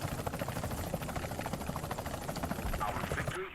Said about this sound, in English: This damn helicopter!